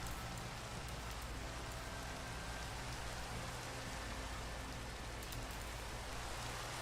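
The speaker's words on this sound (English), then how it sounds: "It is raining here. I've never seen it rain here before." Steady rain in the video game GregTech: New Horizons hisses evenly throughout, a dense wash of falling drops with no changes in intensity and no voices.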